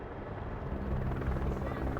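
A helicopter flying at high altitude on Everest, its rotor thumping steadily as a low continuous drone, moderately near, with no speech.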